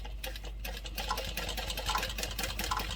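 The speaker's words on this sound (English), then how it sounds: "I'm going to pivot around and I'm going to sew back down." A sewing machine stitches a line of fabric on a garment, its motor whirring in a steady rapid rhythm with small fluctuations, close and alone without talk.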